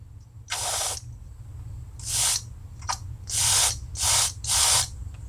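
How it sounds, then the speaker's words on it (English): Air is blown in short puffs into the fuel inlet of a Toro CCR 1000 snowblower carburetor, giving six close breathy hisses of uneven length separated by quiet gaps over a low background hum. "I can blow on the inlet where the gas comes in"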